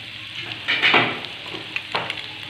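Boiled chickpeas fry in a pan with a steady close-up sizzle, a couple of louder bursts as they are stirred and shifted, no voices.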